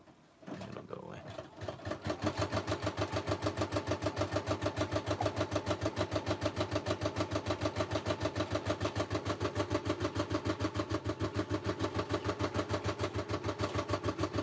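A Brother SE425 embroidery and sewing combo machine runs steadily after a brief start, its fast, even mechanical pulsing loud and continuous throughout.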